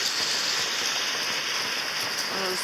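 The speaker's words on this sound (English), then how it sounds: "Still raining, still thunder and lightning." Steady rain falls during a storm in the Everglades and patters evenly on a shelter close by, with no clear thunder.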